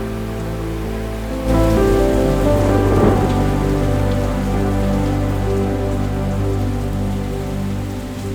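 Rain sets in after a quiet moment and keeps falling steadily on surfaces near the Rječina river, a dense, even patter that stays loud and continuous to the end.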